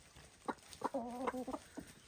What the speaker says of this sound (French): j'ai le coq et le canard mâle là qui sont en train de se battre